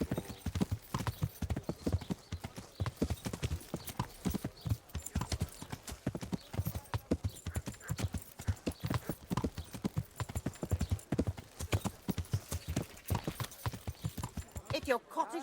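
A horse's hooves clip-clop in a steady, brisk rhythm across the ground in the medieval game Kingdom Come: Deliverance, close and continuous, with voices talking over the gait.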